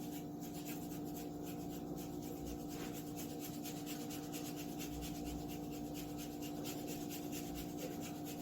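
Steady scraping and rasping of Parmigiano Reggiano cheese being grated over pasta, a continuous close rubbing texture with no talking.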